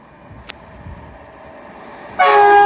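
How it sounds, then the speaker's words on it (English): An LNER Intercity 225 set passes through Newark Northgate station on a Leeds to London King's Cross service: a faint rising rumble, a brief toot, then a loud horn blast near the end. "Passing through now will be an LNER Intercity 225 set, working a service from Leeds to London King's Cross."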